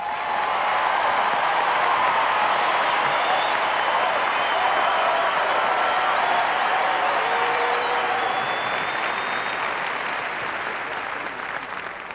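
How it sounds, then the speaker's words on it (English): A large crowd applauds steadily with scattered cheers, a dense continuous wash of clapping that slowly fades toward the end. "for Joe Theismann and Rocky Blyer, tonight, they cheer for you."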